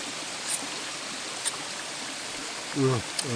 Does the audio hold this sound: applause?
no